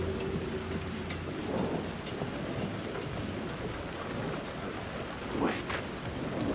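Steady rain pours in the Alan Wake 2 video game, a dense wash of drops with occasional low rumbles of distant thunder underneath, continuous throughout with no talking.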